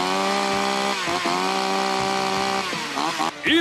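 A Hyundai-engined chainsaw runs after a 1.5-ton jeep has been driven over it, its engine holding a steady, loud buzzing drone before the revs dip and surge near the end.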